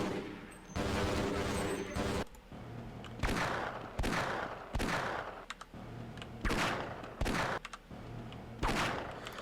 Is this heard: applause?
no